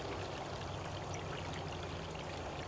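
Creek water pours and gurgles steadily over a log V-weir into a pool, a continuous dense rushing wash with no breaks.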